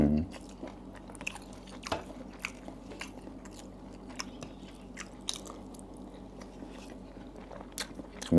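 Fried cha-om (acacia leaves) being bitten and chewed close up, soft crunchy bites recurring through the stretch over a steady low background hum, with no talk over it.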